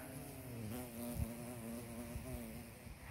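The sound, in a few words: bee buzzing while flying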